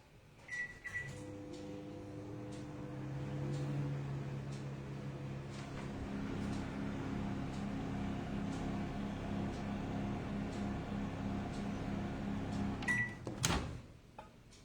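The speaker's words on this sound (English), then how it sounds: "I'll take it into the microwave and microwave for 5 to 10 seconds" A microwave oven hums steadily as it runs for several seconds, opening with a couple of beeps and ending with a beep and a door clunk, close and alone.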